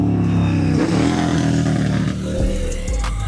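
Motorbikes pass close by on a road, their engines revving and roaring loudly and steadily throughout, with a brief shift in engine tone toward the end.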